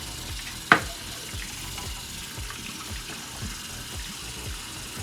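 A salon tool tray being scrubbed under running water, with a steady rush of flow from the tap and one sharp clatter near the start, no talking.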